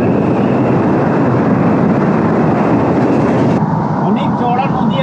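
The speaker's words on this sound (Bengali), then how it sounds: "ট্রেন যাচ্ছে।" A train passing on the railway line near the Sone river bridge in India, a loud, steady rumbling roar that drops off abruptly near the end.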